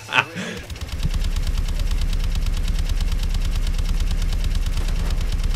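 Sustained machine gun fire from Call of Duty: Advanced Warfare, a dense, steady rapid-fire rattle running for several seconds at high volume after a brief opening sound.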